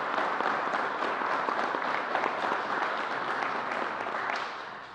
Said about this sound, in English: Let's give the NFTA a round of applause.